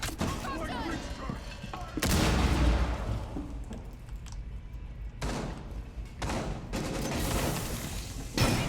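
Rapid gunfire in the tactical shooter Rainbow Six Siege, with loud bursts and heavy thumps around two and five to seven seconds over a continuous noisy game mix.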